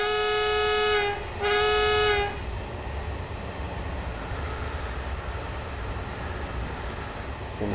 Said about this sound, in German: So klingt die Hupe.